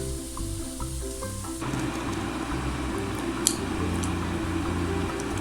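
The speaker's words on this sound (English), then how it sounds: "It takes about 15 minutes to fry the buns on each side." Snail buns fry in a pan with a continuous close sizzle and soft squishy crackle, steady throughout, with one small tick near the middle and no voices.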